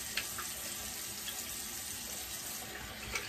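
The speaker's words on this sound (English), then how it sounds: "going for the quick rinse here, quick rinse of the brush" Water from a tap runs steadily over a handmade Swedish shaving brush as it gets a quick rinse, a soft continuous splashing hiss close by with no one talking.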